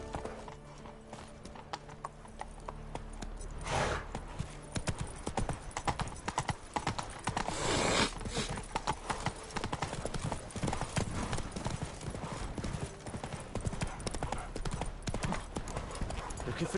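Hooves of the horse Roach galloping in The Witcher video game, a rapid continuous clip-clop rhythm with an occasional whinny and game sounds layered underneath.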